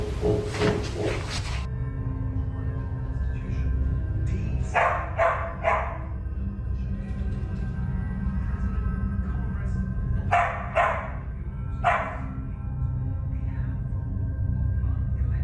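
Dogs inside a house bark in short sharp bursts, first a cluster and then a few single yaps, moderately near over a low steady background hum.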